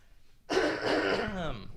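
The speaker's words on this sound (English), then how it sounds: "I gotta clear my throat one more time." A man clears his throat once, loudly and close, a raspy rumble of under two seconds that rises abruptly out of quiet room tone.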